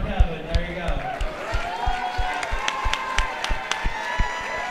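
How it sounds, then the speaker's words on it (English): A crowd at an amateur fight-night event claps and cheers for a fighter, with sharp separate handclaps and scattered whoops at a moderate distance, and voices calling out over it. "Clap it up for Kevin."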